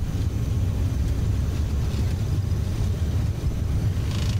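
Jet engines of an Aerosoft CRJ airliner at takeoff thrust in Microsoft Flight Simulator, a steady, loud low-frequency roar and rumble that holds continuously with little variation.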